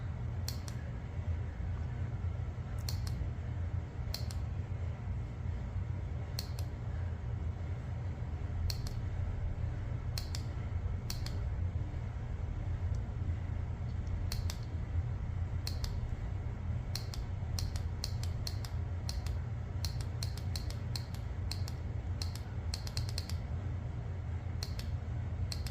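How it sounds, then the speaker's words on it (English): A relay in a 2001 Nissan Pathfinder 4X4 ticks in irregular quick bursts of sharp clicks over a steady low hum, sometimes single clicks, sometimes clustered in fast runs, with no one talking. "that relay definitely does work. You can hear it clicking here."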